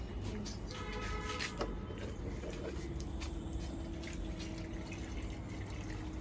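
Water poured from a container onto a newly planted hibiscus outdoors during the rainy season, giving a faint, steady splashing trickle over a low background hum.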